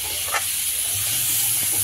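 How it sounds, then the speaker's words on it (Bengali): Potato pieces fry in hot oil until they turn reddish, giving a loud, continuous, close hiss and sizzle with no voices. "এবারে এই আলুগুলোকে একটু লাল লাল করে ভেজে নেওয়া হবে।"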